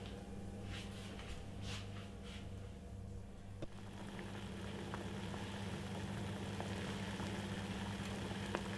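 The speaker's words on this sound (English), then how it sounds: "Now we're going to put this to the boil for roughly about 5 to 10 minutes." A pot of water with ginger in it comes to a boil, a faint steady bubbling hiss that thickens slightly as it goes on, with a few soft clicks and no voices.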